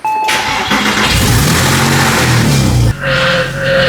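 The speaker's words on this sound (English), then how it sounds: "Turn it on, drive it off." Porsche engine cranking and catching, then revving loudly up close, with a brief dip before settling back to a running idle.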